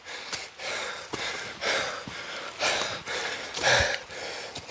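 Someone nearby breathes hard in heavy, rhythmic gusts, each drawn breath and exhale clearly audible at close range with no speech.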